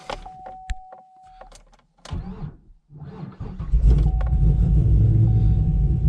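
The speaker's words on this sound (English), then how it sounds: "you notice how the starter kind of stops when it's cranking over" A 2015 Chevrolet Camaro Z/28 with an LS7 V8 cranks with a brief hesitation in the starter, then catches into a loud, deep rumbling idle that holds to the end, after some quiet clicks and a faint whirring tone.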